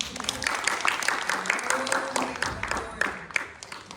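Applause from a church congregation, a burst of scattered clapping from many hands that rises and thins out over a few seconds, with a voice talking over it.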